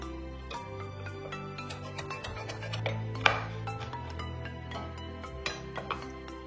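A knife chops washed bottle gourd peels finely on a board in quick, fairly regular taps, soft and close, with a faint low hum under them and no talk.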